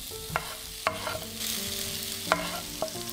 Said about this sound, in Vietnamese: Mình cho hành tây tím vô trước để mình phi cho thơm